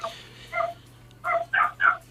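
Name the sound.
dogs barking and whimpering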